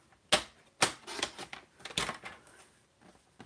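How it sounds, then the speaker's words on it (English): Scissors snipping off a tip, a few sharp close clicks and snips with softer rustling handling noises between them. "So we'll cut off that tip. We'll cut a little bit off of here."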